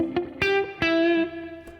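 A blues guitar played through an analog delay plucks a few slow, bright notes, each ringing out with smooth, soft repeats that trail off, close and alone.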